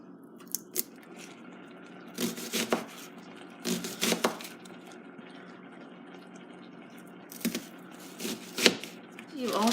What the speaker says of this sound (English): While our spinach is on the stove, we're gonna cut up an onion and our mushrooms